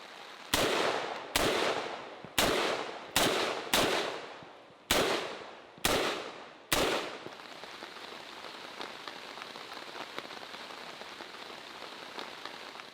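Eight loud, sharp firearm gunshots ring out at an outdoor shooting range in the rain, spaced irregularly with echoing decays. Steady rainfall patters on alone afterward.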